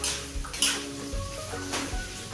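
Hot oil spits and crackles in a pan while pork is sautéed for adobong puti, with a few sharp pops and clinks of a utensil against the pan over a low sizzle.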